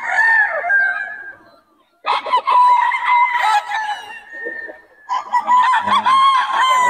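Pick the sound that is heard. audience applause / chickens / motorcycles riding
chickens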